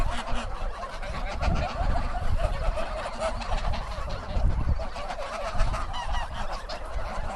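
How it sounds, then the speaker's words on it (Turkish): Grey geese honk repeatedly and loudly in a noisy, overlapping chorus, close by and continuous throughout. "Bu gri kazlar bizim burada Alman kazı da diye de geçiyor"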